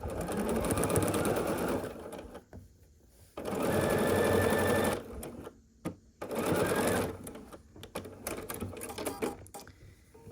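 A sewing machine stitching quilt block pieces runs in three loud bursts of rapid whirring, separated by quiet pauses with small clicks and handling noises, and no voices.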